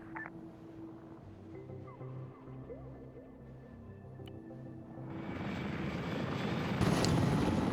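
A damaged Mi-24 helicopter in a video game drones with a low engine rumble and rotor throb that swells into a loud broadband roar over the last few seconds.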